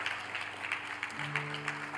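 A church congregation applauds, a steady wash of clapping hands that runs beneath a sustained keyboard chord.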